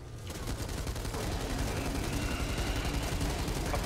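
Sustained automatic gunfire in a video game, a dense unbroken rattle of rapid shots that fills the whole stretch at steady loudness.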